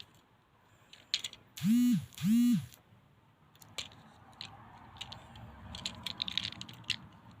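A Transformers BumbleBee toy figure's plastic joints are swivelled and clicked, giving small scattered ratcheting clicks and rattles close by; two short loud tonal bursts near the start stand out, with no talking.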